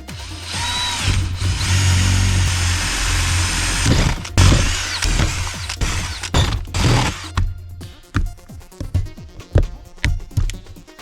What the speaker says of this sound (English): we got the airbox installed with all the new air vents cut into the lid